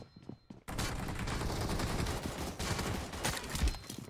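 Dense, continuous automatic gunfire from a shooter video game erupts after a brief quiet start, loud and sustained with rapid overlapping shots and a heavier thump near the end.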